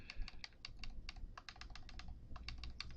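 A search being typed into a TV streaming app on a keyboard gives a steady run of quick, light key clicks, close and fairly quiet, with no talking.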